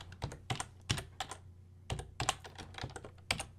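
Fingers tap out code on a computer keyboard in quiet, close, irregular keystrokes with brief pauses between short runs of typing.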